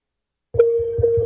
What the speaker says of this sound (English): it actually sounded like a bell ringing when you did that